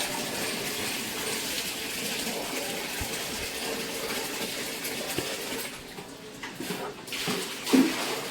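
Water being poured onto potted plants on a home rooftop, a steady broadband splashing and gushing that runs for several seconds, then thins and breaks into uneven trickles and drips toward the end.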